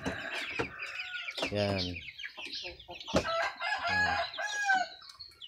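A rooster crows loudly nearby, with chickens and chicks clucking around it and someone speaking briefly between the calls.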